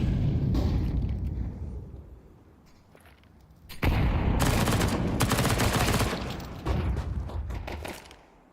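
Counter-Strike gunfire during a BLAST.tv Austin Major 2025 match: dense bursts of pistol shots, loud and continuous, fading briefly to quieter scattered fire before another heavy volley.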